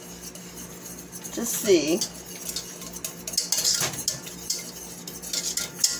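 A utensil scrapes and clinks against a pan while ketchup and meatloaf drippings are stirred into gravy, irregular metallic taps and scraping coming close, with a few brief words spoken.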